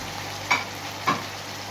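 Chopped onions and tomatoes fry in a hot pan with a soft, continuous sizzle. Two short, sharp scrapes of stirring break in about half a second apart.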